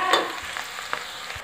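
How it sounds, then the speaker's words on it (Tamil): Ingredients frying in a pan for sour greens pickle, a quiet brief sizzle with a few light stirring scrapes. "அது வரைக்கும் வறுக்கணும்"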